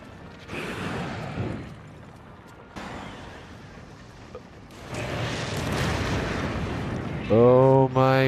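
Cannon fire in the video game Monster Hunter World during a Zorah Magdaros fight: heavy booming blasts and rumbling impacts roll through a loud battle din, ending in a sustained tonal roar, with a voice speaking briefly early on.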